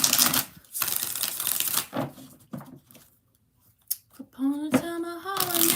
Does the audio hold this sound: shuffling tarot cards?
yes